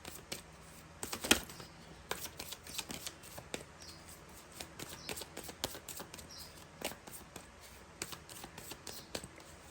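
Tarot cards are handled and drawn, giving light papery ticks and slides at close range and one sharper snap near the start, all fairly soft and without speech.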